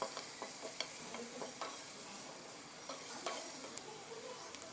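Spinach curry fries in a pan with salt, chili powder and turmeric, a steady close sizzle broken by the scrape and tap of a stirring spoon.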